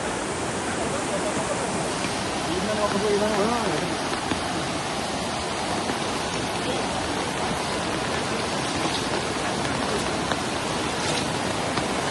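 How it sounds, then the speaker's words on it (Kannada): Heavy downpour in a village in Davanagere, a dense, steady roar of rain pouring without pause throughout, loud and close. "ಇತಿಹಾಸದಲ್ಲೇ ಕಂಡು ಕೇಳರೆಯದ ಮಳೆ ನೇರ್ಲಗುಂಡಿ ಗ್ರಾಮದಲ್ಲಿ ಗುರುವಾರ ಸುರಿದಿದ್ದು"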